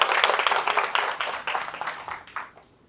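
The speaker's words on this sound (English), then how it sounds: "Please give a round of applause." A room of people clapping to welcome Rebbetzin Slovie Jungreis Wolff at a Rosh Hashana event: a brisk burst of applause, loud at first, then thinning and fading over about three seconds.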